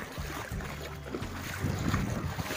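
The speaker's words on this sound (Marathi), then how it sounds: "एकदा तुम्हाला पाण्याचा आवाज करून दाखवतो." Water splashes and churns as someone wades through it, a close, continuous rushing slosh that grows louder partway through.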